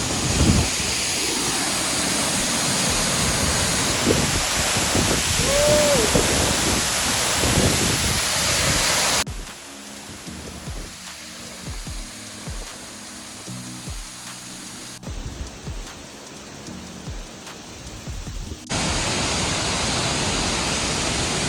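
Waterfall in the Vattavada hills, a loud broad roar of rushing water up close for the first half, then a quieter, thinner stretch of flowing water before the full roar returns.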